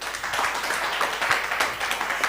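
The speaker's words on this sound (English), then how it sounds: "Please clap for her." An audience at a young filmmakers' workshop claps steadily, a dense patter of many hands that carries on evenly throughout.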